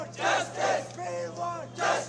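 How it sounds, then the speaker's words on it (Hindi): Crowd of angry students protesting a coaching-centre incident in Old Rajendra Nagar, chanting slogans in loud rhythmic bursts, several voices shouting together in waves with a steady low hum beneath. "We want justice, coaching mafia मुर्दाबाद के नारे लगाए जा रहे हैं।"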